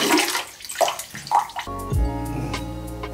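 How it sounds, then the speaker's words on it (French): A Dreame H11 Max wet vacuum cleaner sucking up dirty water, with wet sloshing and gurgling that gives way to a steady motor hum carrying a slurping, draining whoosh, close and fairly loud. "pendant qu'il nettoie, en fait, il va aspirer l'eau sale et ça va ressembler à ça"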